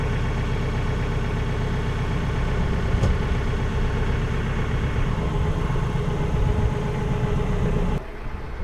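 A Rural King RK55 compact tractor's engine runs steadily in first gear, a loud continuous close drone with a slight drop in level near the end, no voices.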